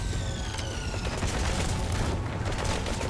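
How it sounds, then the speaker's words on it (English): Mortar fire in Metal Gear Solid V, a steady barrage of booming blasts and crackling gunfire that keeps on without a pause for a few seconds, loud and dense with no talk. "he is still shooting mortars at me"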